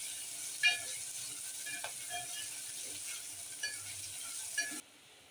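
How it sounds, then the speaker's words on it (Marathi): Onions gently frying in oil in a pan for sevai upma, a faint, steady sizzle with a few soft stirring scrapes and clicks, heard alone at low level. "कांदा थोडासा लालसर करायचा आपल्याला."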